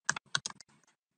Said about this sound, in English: What am I actually typing today?